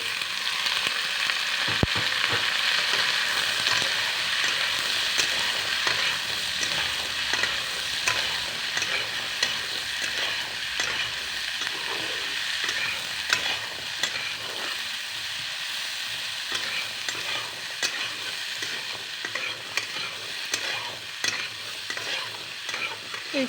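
Drumsticks (moringa pods) and potatoes sizzle and fry in a pan with onions and chilies in an Assamese home kitchen, stirred steadily with scraping strokes throughout, close and fairly loud with no talk.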